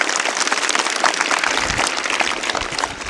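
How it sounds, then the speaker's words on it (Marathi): An audience claps loudly at a Shiv Jayanti quiz event, a dense, steady burst of many hands clapping for about three seconds, with no voices over it. "जोरदार टाळ्या याच्यासाठी."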